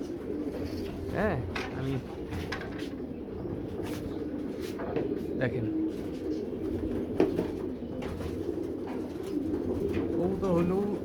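Flying pigeons coo repeatedly in a loft, a low continuous burbling chorus close by, with someone speaking briefly over it.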